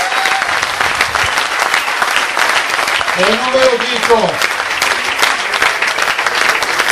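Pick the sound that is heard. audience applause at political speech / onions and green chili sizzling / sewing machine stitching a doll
audience applause at political speech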